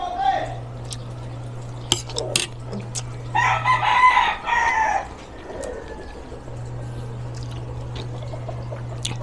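Chickens and a rooster outdoors, a crowing call rising over a steady low mechanical hum, with scattered clucks and clinking dishes nearby, while people talk softly.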